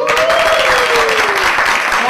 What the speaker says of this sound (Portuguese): eu gostaria que vocês aplaudissem